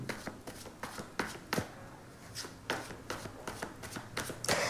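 Tarot cards being shuffled and drawn by hand, a series of crisp, close riffling and slapping bursts at an uneven rhythm, loud and dry with no talk over them.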